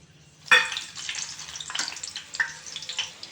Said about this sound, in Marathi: ही मिरची आता मी ह्या कढईमध्ये टाकून थोडीशी फ्राय करून घेते